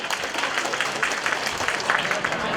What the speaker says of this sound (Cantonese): 熱烈嘅掌聲